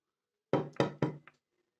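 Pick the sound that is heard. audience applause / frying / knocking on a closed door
knocking on a closed door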